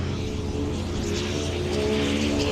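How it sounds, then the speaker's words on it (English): A Toyota 86 drift car on Nexen tires roars steadily at close range during qualifying in Texas, its exhaust note holding a continuous buzzing drone with no speech. "You can hear that just exhaust note"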